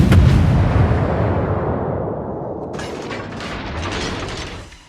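Naval video game destroyer guns fire on the ship Otago, sounding as heavy, booming artillery blasts that roll and fade, with a burst of sharper crackling reports near the end.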